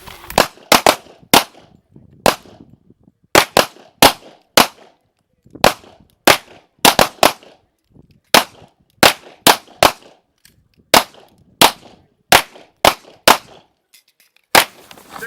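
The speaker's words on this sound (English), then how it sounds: "2 to the head twice. Weapon hand supported, no time limit. Shooter ready? Stand by. Fire." Handguns fire on a police academy shooting range in quick pairs and triplets of sharp, loud cracks, repeating steadily through a long course of fire with short gaps between strings.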